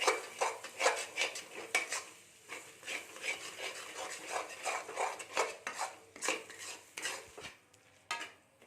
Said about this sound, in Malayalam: ഇനി എല്ലാം കൂടി ഒന്ന് നല്ലപോലെ മിക്സ് ചെയ്ത് കൊടുക്കുക.